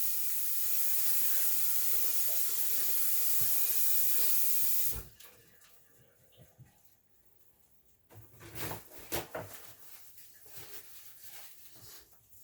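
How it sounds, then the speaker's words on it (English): A kitchen tap runs in a steady, loud broadband hiss as hands are washed under the water, then shuts off abruptly, leaving scattered faint clatters and rustles near the sink. "I'm going to wash my hands"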